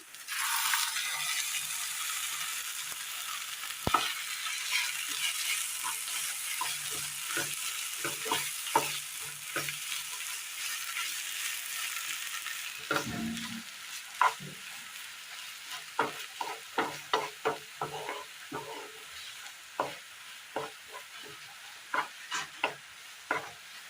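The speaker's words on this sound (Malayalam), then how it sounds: "അരച്ചു കൊണ്ടുവന്ന തക്കാളി കൂടി ചേർത്ത് കൊടുക്കാം" Ground tomato and crushed chili fry in a pan with a steady close sizzle, giving way to a run of sharp spoon-stirring clicks and scrapes in the second half, with no talking.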